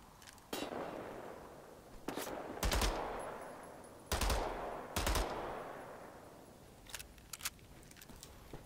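Pistol gunfire in the shooter game Wolfenstein: several sharp single shots and quick pairs spaced over a few seconds, each with a short decaying tail, fairly loud with no talking.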